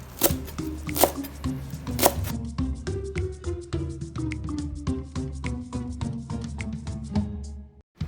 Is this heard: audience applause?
no